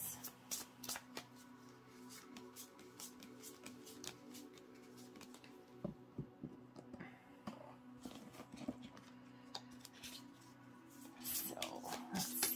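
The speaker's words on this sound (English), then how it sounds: "Shuffle these back in" Tarot and oracle cards being shuffled by hand in a quiet room, a run of soft riffling flicks and papery slaps in irregular bursts, close and fairly faint, growing brisker toward the end.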